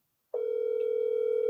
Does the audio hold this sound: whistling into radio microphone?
no